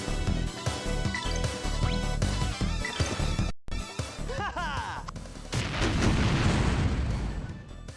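Hand grenades go off in battle in the Grandia 2 video game, a series of sharp booming blasts and crackling bursts layered over game music, ending in a loud, rumbling explosion.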